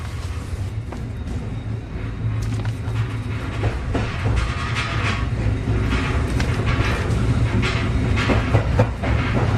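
A train pulling away with railway enthusiasts on board, heard as a steady rumble with rhythmic clickety-clack of wheels over rail joints, building slightly as it gathers speed, close and continuous, with no talking.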